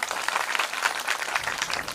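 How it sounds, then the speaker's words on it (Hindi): Audience at a village Shrimad Bhagavat Katha gathering claps for children, a steady patter of applause lasting about two seconds at moderate, slightly distant level. "इन बच्चों के लिए एक बार और तालियां"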